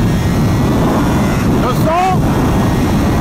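A Kawasaki H2 SX SE motorcycle accelerating hard, its loud engine roar with a rising supercharger whine sweeping upward near the end, the rider's voice heard over it.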